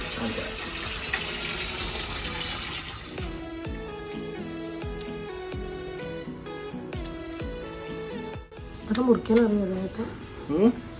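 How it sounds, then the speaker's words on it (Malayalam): Cassava (tapioca) being washed under a running kitchen tap, a steady close rush of water splashing over the roots, with some knocking and handling, and a voice speaking briefly near the end. "നമുക്ക് ആദ്യം കപ്പന പോലെ കഴുകി വൃത്തിയാക്കി മുറിക്കണം."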